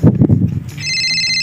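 Telephone ringing with a steady electronic trill that starts partway through, loud and close, following a few brief rustling knocks at the start.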